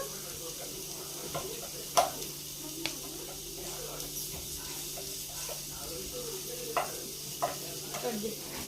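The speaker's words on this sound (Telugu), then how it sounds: "చపాతి అయితే ఒక సైడ్ కాలింది తిప్పేసుకుంటాను" A chapati cooks on a hot pan with a soft, steady sizzle and hiss, dotted with faint scattered ticks and light scraping.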